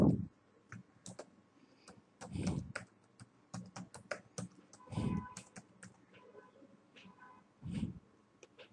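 Sharp, separate clicks from a computer keyboard come in uneven bursts, with a few louder thumps in between, close up and clear in an otherwise quiet room.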